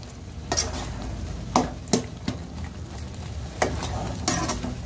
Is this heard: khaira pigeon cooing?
no